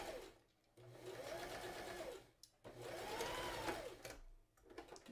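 A sewing machine stitching linen curtain fabric to stop it fraying, heard close and quiet in two whirring bursts of rapid needle strokes separated by a brief pause.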